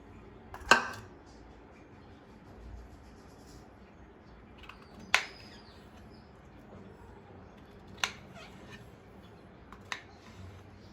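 Washed mushrooms being cut with a knife, giving four sharp, separate chopping clicks spaced a few seconds apart over a quiet kitchen background.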